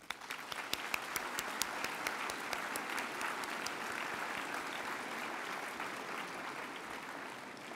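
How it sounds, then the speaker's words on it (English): An audience at a graduation ceremony applauds the students' families: sustained, dense clapping from a large crowd that holds steady for several seconds, with a few sharp, louder claps near the start. "So I think we should take a moment and applaud the families that have supported our students."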